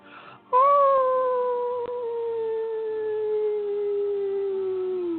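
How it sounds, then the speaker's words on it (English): A single long, sustained wolf howl rises sharply and then slowly glides downward, loud and close, held steadily for several seconds with no other sounds around it. "You howl again."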